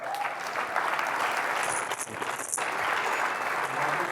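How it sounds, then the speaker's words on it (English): Sustained applause from a debate audience at a youth leadership debate grand finale, steady dense clapping filling the room without a break for the full four seconds. "Can we please a round of applause for our judges?"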